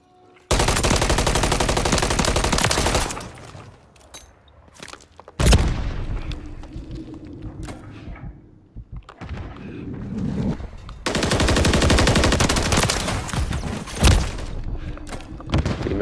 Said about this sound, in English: Teammate, stop shooting me.